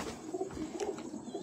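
A pigeon coos nearby in soft, repeated low throaty calls, alone without talk.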